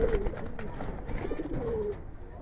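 Giribaz pigeons coo in soft, throaty phrases, one at the start and another drawn-out call later, close by over a muffled, noisy background.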